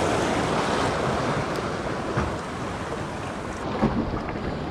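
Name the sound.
waves breaking at a fishing spot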